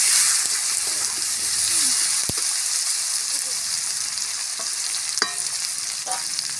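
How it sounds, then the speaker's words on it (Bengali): Taro root pieces fry in a pan with a steady, dense sizzle that holds throughout, broken by a few faint clicks of stirring, with no one speaking. "দেখুন লাল লাল করে ভেজে নিচ্ছি"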